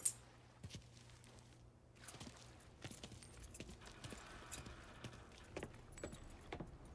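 Keys jingle in the Mafia 3 video game, a faint metallic rattle that recurs across the scene over low ambient game noise and a few soft thuds, with no voices.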